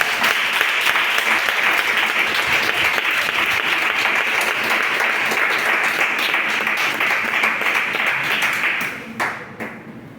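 Loud, sustained applause from a worship congregation at a Saturday praise service, dense clapping that carries on steadily, then tapers off at the end with a few last claps.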